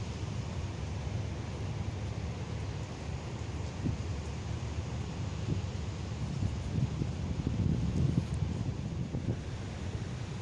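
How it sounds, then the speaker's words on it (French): Wind blows steadily across the microphone on Red Square in Moscow, producing continuous low rumbling buffets that swell slightly louder toward the end. "Il y a un peu de vent, je ne sais pas si ça s'entend"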